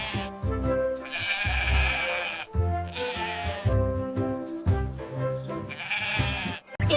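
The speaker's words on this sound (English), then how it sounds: "It's a sheep." A sheep bleats in three long, wavering calls separated by short pauses, each loud and close with a strong nasal quaver.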